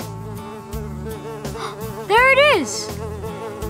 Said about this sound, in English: I hear a buzzing sound.